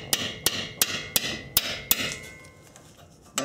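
A heavy hammer whacks the steering knuckle of a Subaru during a CV axle replacement, six sharp metallic blows in quick, even succession, loud and close with ringing decay, then a pause and one more strike.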